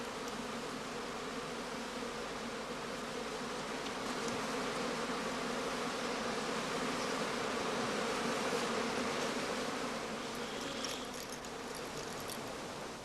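Honey bees buzz at a skep apiary among heather in full bloom in good August weather, a dense, steady swarm hum filling the whole stretch, fairly close and continuous, with no talking.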